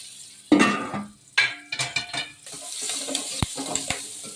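Spices stirred into hot tempering oil for khata dhokla, with sharp clinks and scrapes of a spoon against the pan over a soft, steady sizzle, close by and with no talking.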